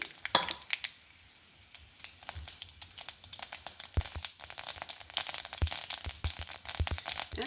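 Mustard seeds spluttering in hot virgin coconut oil in a pan, a dense, fast crackle of sharp pops that builds and grows busier, close and fairly loud.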